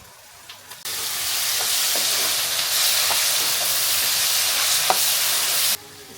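Homemade puliyogare gojju, a tamarind paste, sizzles steadily in a hot pan after curry leaves are added, with a loud continuous frying hiss and scattered clicks of a spoon stirring, alone and close.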